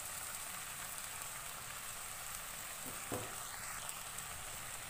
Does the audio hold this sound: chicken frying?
yes